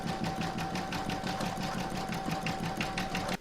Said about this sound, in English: I'm now going to stitch round number 12 to secure the fabrics